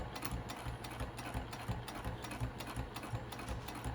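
A sewing machine runs steadily while stitching a quarter-inch seam on a patchwork bag, its fast, even needle rattle continuous and fairly quiet throughout.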